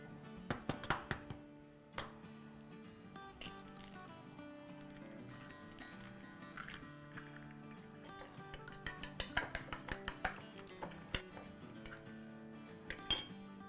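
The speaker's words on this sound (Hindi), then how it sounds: "और हम जब तक थोड़े और अंडे फेंटते हैं और सैंडविच के लिए।" Eggs are beaten in a bowl for sandwiches, with quick bursts of clinking utensil strikes against the dish that come in uneven clusters, close and moderately quiet, separated by short pauses.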